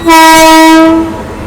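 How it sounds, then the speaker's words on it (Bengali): A train horn sounds a single loud, close, sustained blast of about a second, then fades, with no talk over it. "এটা কোন ট্রেন"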